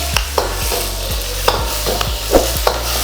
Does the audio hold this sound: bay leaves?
yes